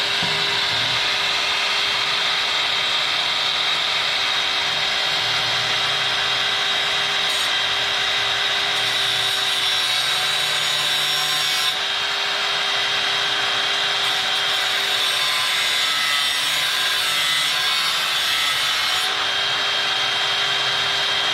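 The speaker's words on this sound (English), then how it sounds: "See if I can't get my grind wheel down in there." Power grinding wheel running steadily under the hood of a 2003 Ford Crown Victoria during a radiator hose replacement, a loud continuous high whine with brief dips and surges in load.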